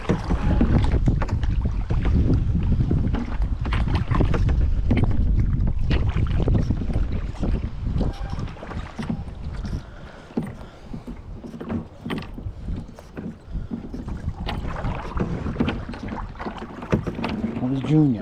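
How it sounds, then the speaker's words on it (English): Heavy wind buffets the microphone while kayaking, a loud continuous rumble that eases partway through, mixed with creaks and knocks from the boat. "It's windy."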